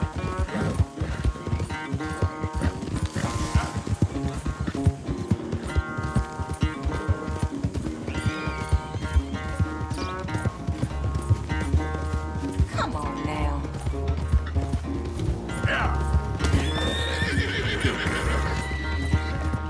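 Horse galloping and neighing in the Red Dead Redemption 2 video game, with steady clip-clop hoofbeats and whinnies over a dense, loud game music score running throughout.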